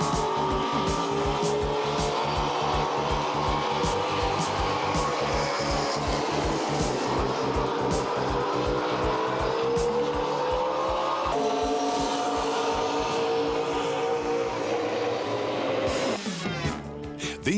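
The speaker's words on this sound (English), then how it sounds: "These are top fuel dragsters." Top fuel dragsters race down the track with a loud, continuous, rough engine roar that shifts in pitch as the cars pass, closing with a sharp crackling change near the end.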